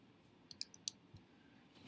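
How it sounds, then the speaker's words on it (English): Calculator buttons pressed in a quick pair of soft, faint clicks, then a couple more light taps, alone in a quiet room. "I'm going to press second enter because that allows my calculator to retype it all"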